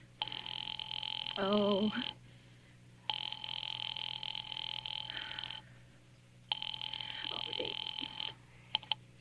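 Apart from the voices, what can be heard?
telephone ringing in old-time radio drama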